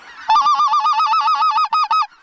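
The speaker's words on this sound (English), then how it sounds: "Lots of geese, guys." A flock of snow geese honks repeatedly at an Alberta waterfowl hunting blind, with loud, close, rapid overlapping calls in an even rhythm that break into a few separate honks at the end.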